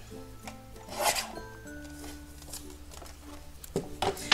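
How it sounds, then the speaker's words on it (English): Paper being cut to size for the inside of a handmade pop-up card gives a brief raspy slicing sound, close and moderately loud, over a steady tonal background. "I'm going to go ahead and cut just 1 inch off"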